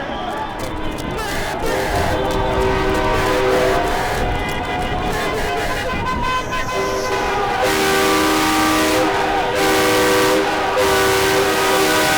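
A loud, sustained semi-truck horn blares over heavy traffic noise at a street protest, with voices shouting close by as the blast carries on through most of the clip.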